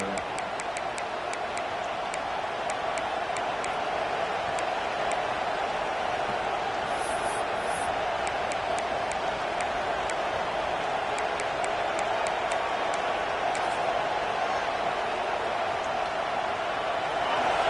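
A stadium crowd roars steadily at a college football game in NCAA 26. The dense, even crowd noise runs the whole time, with game commentary over it.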